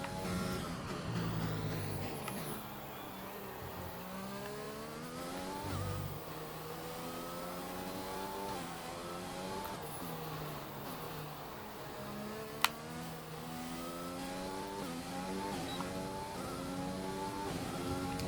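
F1 2020 race car engine in the video game, revving up and down through repeated gear changes in rising and falling sweeps, steady and close, with no voices.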